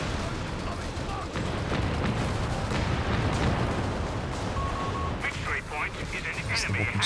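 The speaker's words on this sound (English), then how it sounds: "That's the walking Stuka again." Rumbling barrage of impacts from the walking Stuka rocket artillery in a 4v4 match of Company of Heroes 3, a dense and continuous wash of distant explosions with a few sharper bursts near the end, heard under ongoing battle noise.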